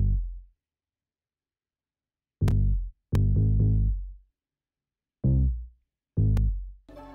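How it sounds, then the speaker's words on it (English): Dry pluck bass synth with no effects playing short, deep notes on chord roots, each with a sharp attack and quick decay, separated by clean silence, in a sparse rhythmic pattern. "And then I add this pluck bass with no effect to sound like this."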